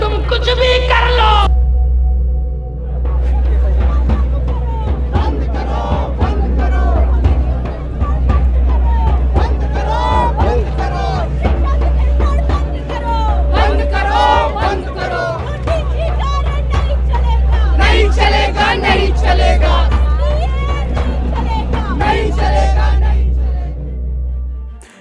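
A large protest crowd chants and shouts in loud unison, a dense roar of many voices with rhythmic chant phrases and yelling that swells and ebbs throughout, with no quiet break.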